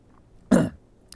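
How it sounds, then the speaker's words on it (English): A single short, harsh cough close to the microphone, one burst that fades quickly into a quiet room. "That was a big cough."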